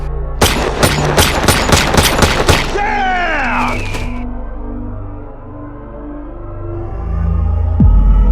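A rapid burst of loud gunfire cracks out close by, followed by ringing echoes and a low rumble, with a brief thump near the end.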